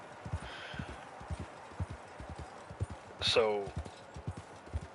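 Horse hooves clip-clop in the Western video game Red Dead Online, a steady, fairly quiet rhythm of distinct hoof strikes continuing throughout, with someone speaking briefly over it.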